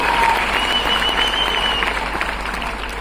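An audience at a lifestyle company program in Nagpur claps loudly and continuously, a dense crowd applause that slowly eases in volume toward the end, with a faint tone briefly ringing through it.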